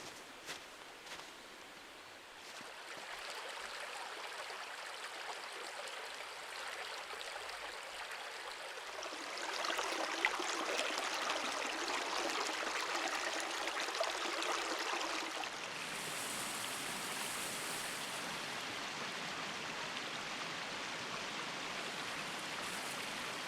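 A forest river and a waterfall in snow send up a steady, soft wash of rushing water that swells midway and stays faint and even throughout, with no voices.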